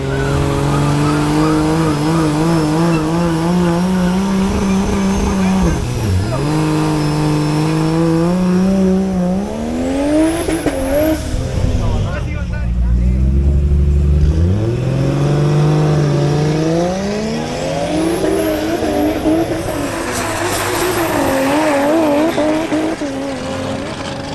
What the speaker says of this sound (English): Jose Fernando Gomez in his BMW 325i faces off against Jose Manuel Hurtado in his BMW X3 M40i.